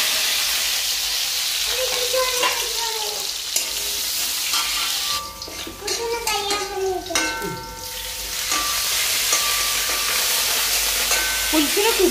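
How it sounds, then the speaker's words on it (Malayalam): Shallots fry in hot oil after mustard seeds, sizzling steadily while a spoon scrapes and stirs through them in bursts, with a faint voice briefly in the background. "അതിലേക്ക് ഉള്ളി അല്ലേ ആദ്യം ഇടാൻ?"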